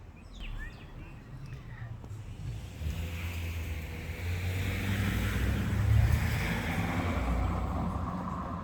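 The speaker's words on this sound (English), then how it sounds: "You're not going to be able to hear me half the time because of the cars" Cars pass along a nearby road outside a garden, a steady low rumble of traffic that swells and recedes, loud enough to compete with someone talking close by.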